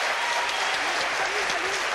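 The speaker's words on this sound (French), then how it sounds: "applaudissements pour ces deux jeunes joueurs" A French television studio audience applauds two young players, a dense, continuous wash of clapping with cheering voices mixed through it, loud and steady throughout.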